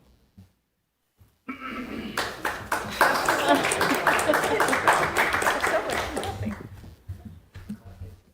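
A council chamber audience at a Norwood city council meeting bursts into applause that swells for several seconds with crisp individual claps, then tapers off into quiet.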